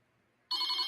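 A telephone bell starts ringing abruptly halfway through, loud and bright, continuing steadily to the end after near silence.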